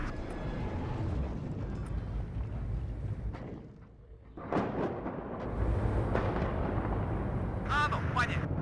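Heavy booms from Yashturka artillery firing in the WARNO war game roll out like rumbling thunder, with a brief lull in the middle before the deep blasts resume, under occasional talk.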